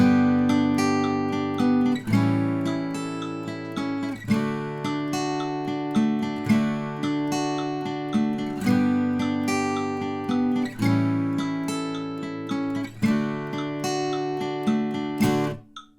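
An acoustic guitar plays the verse lead line of a song, with clear picked melody notes and strummed chords in a steady, repeating rhythmic pattern, close and alone with no talking.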